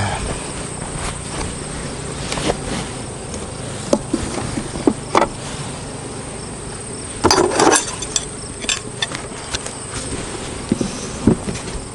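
Honey bees buzz around the hive during a honey harvest, a steady droning hum throughout, broken by occasional sharp clicks and knocks from hive handling.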